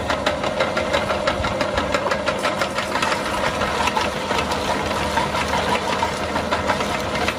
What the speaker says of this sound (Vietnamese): Vừa nãy là đang xay thử rồi.